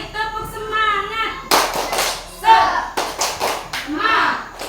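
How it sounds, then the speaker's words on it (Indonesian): A junior high class does a rhythmic spirit clap, with short bursts of group clapping mixed in with children's chanting voices and talk. "Sekali lagi tepuk semangat."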